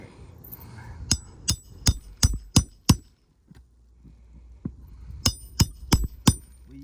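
Hammer blows on a roof shingle during a repair, with a tool used to protect the shingle: two runs of sharp, close metallic strikes, six in steady rhythm, a pause with a few light taps, then four more.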